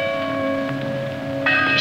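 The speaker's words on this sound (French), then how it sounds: "Les cloches, toujours les cloches." Church bells ringing, sustained resonant tolling with steady layered ringing tones and a fresh strike near the end, heard alone without talk.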